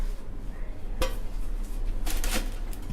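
A metal lid set onto a pot of Bombay chicken biryani produces a couple of sharp clanks about a second apart, close and clear against a low kitchen hum.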